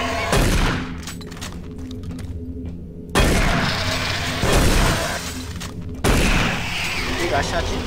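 Heavy gunfire in the video game DOOM: three loud, close blasts roughly three seconds apart, each followed by rattling, crackling debris and echo, with a faint voice underneath.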